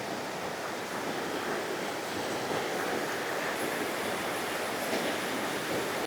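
A river flowing down from Alingal waterfall at Kadappara makes a steady, dense rushing roar, continuous and fairly loud with no breaks and no voices.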